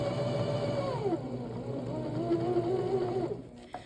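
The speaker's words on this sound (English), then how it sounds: "I'm sewing nice and slow here because this one is very delicate to do correctly" A sewing machine stitching liner fabric to a zipper, running slowly and steadily close by with a smooth motor hum that shifts pitch slightly, then stops.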